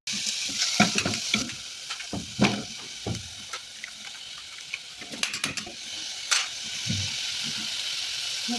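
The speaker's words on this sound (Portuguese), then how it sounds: "Agora eu vou colocar a cebola." Chopped onion fries in olive oil in a cooking pan, giving a steady soft sizzle broken by close scraping and stirring clatters from a utensil.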